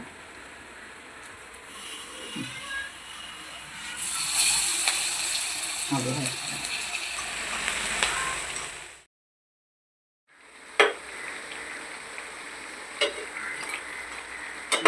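Parippu vada lentil fritters drop into hot oil and fry with a steady, loud bubbling sizzle, broken by a brief silence and then renewed sizzling with clinks, under a voice.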